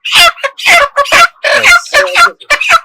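Chicken being picked up and handled on a poultry farm, giving loud, close, rapid bursts of agitated clucking and squawks in quick succession, about eight calls in under three seconds.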